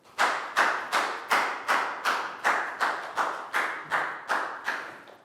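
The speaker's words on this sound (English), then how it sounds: "Big round of applause for Bangpon" About a dozen evenly spaced, resonant claps or thumps in a steady rhythm in a Year 3 maths lesson, each ringing out briefly before the next, close and fairly loud.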